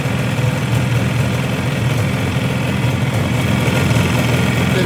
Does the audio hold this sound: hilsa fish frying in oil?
no